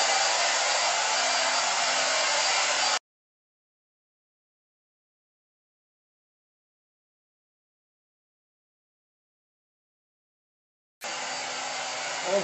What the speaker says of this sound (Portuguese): eu venho com um secador de cabelo